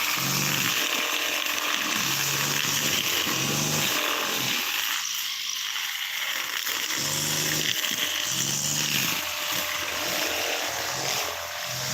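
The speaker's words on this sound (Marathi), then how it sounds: "आता तर ग्रास कटिंगचं काम चालू आहे" A motorized grass cutter buzzes loudly up close, its high whine cycling up and down in repeated bursts as it works.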